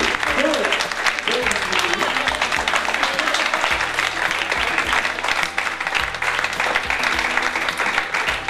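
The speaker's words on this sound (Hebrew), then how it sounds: "מחיאות כפיים סוערות למוטי." Enthusiastic audience applause at a communication-styles workshop, dense continuous clapping from a crowd that stays loud and even throughout, with voices murmuring under it.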